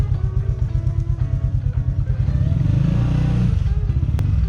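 Motorcycle riding along a road, captured from a helmet-mounted GoPro: a steady, loud engine drone with rhythmic pulsing and wind rumble, rising in pitch briefly as it accelerates near the end.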